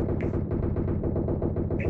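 Rapid automatic gunfire in the PUBG video game, a dense, steady burst of shots in quick rhythm, loud and close, with no talk over it.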